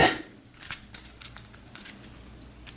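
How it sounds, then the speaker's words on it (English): Soft papery riffling and flicking of a tarot deck being shuffled, a quick burst at the start followed by light scattered shuffling sounds, close and fairly quiet. "Give the tarot deck a shuffle"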